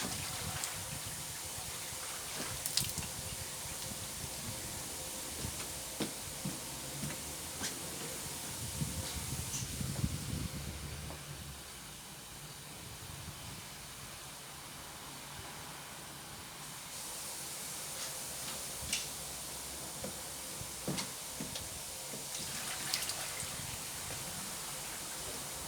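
Water pours into an Indesit washing machine being overfilled, a continuous hissing rush with faint clicks and knocks, dipping briefly in the middle before resuming at a steady, moderate level.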